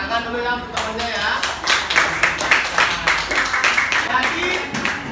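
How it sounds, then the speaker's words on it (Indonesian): Schoolchildren in a classroom clap together for a classmate, a close, brisk round of uneven hand claps that builds quickly and carries on with a bit of voice mixed in. "Tepuk tangan dulu ya untuk temannya ya"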